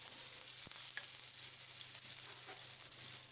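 Cumin seeds and chopped green chillies fry in hot oil in a pan, a soft, steady sizzle with a few faint stirring clicks, quiet and close, with no voices.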